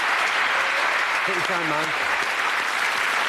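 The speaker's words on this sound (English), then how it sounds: "Nice round of applause" A studio audience at a TV darts game show claps in a steady, dense round of applause throughout, with someone briefly speaking over it.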